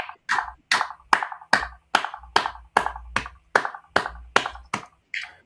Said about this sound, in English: I think we need to clap for Mr. Chimunya.